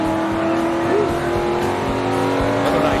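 NASCAR stock cars racing at Darlington during the 2009 Southern 500, a loud sustained engine roar with rising and falling pitch as cars pass close by, over a dense background rumble.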